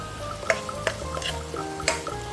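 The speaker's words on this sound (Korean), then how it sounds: "양념이 끓기 시작하면 볶아놓은 가지를 넣고 양념이 잘 배도록 볶아주세요" Eggplant stir-fries in a bubbling seasoning sauce, a steady close sizzle with a few sharp clinks of a utensil against the pan.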